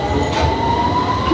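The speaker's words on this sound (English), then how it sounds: "I love how we can just take the underground tube, head to the very top." London Underground tube train rumbling loudly and continuously, with a thin wheel squeal running over the low roar.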